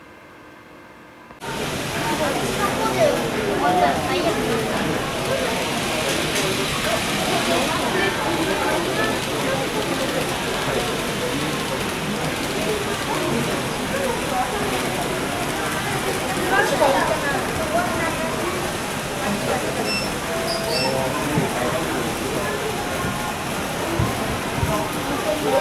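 A model DE10 cold-region diesel locomotive runs on a rental layout, pulling freight cars, giving a steady, continuous whirring rumble that stays loud and even throughout.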